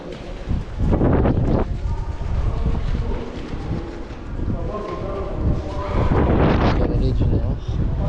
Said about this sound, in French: Je sais pas si vous avez entendu, s'il y a du vent.